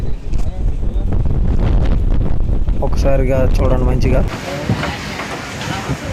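Strong wind buffeting the microphone on a coast where fishing boats are moored during a Chennai cyclone, a loud roaring rush throughout with someone talking over it.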